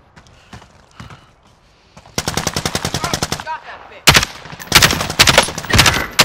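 Bursts of automatic gunfire from Call of Duty: Modern Warfare, loud and rapid, with a sparse opening followed by two dense stretches of repeated shots.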